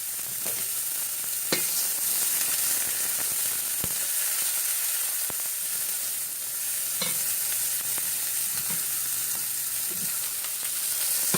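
Green onions fry over high heat in a pan while being stirred, a steady loud sizzle with scraping stir strokes at intervals, close and continuous with no talking.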